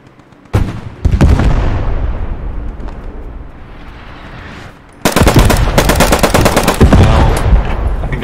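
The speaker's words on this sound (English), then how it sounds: "I think they're bombarding us." Heavy gunfire and bombardment in the WWII shooter Post Scriptum, set around Foy: dense machine-gun bursts and booming impacts, loud and continuous, easing briefly before a renewed, even louder barrage, with no voices.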